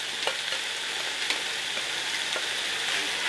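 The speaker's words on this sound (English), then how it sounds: "I'm going to make sure that my stew meat is browned on all sides" Stew meat for Polish bigos browning in a hot pan, a steady loud sizzle and crackle of frying throughout, with faint stirring scrapes.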